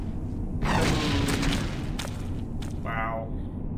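Booming explosions and deep thuds from bodies blowing up in the stealth game Thief, a fan mission set in an inverted manse, with a rumbling blast sustained under brief crackles.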